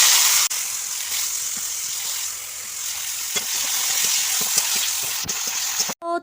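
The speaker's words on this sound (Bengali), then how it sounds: "এখানটায় তেল দিয়ে দিয়েছি, কারণ এখানটায় এখন আমি ভাজবো আলু।" Potatoes frying in hot oil in a wok: a steady, loud, close sizzle with faint stirring taps throughout, no voices.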